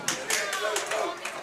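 Spectators at a high school boys and girls bowling match clap and cheer in a steady patter of bursts, with voices mixed in, moderately close.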